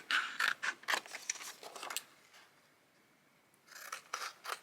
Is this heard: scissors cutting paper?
yes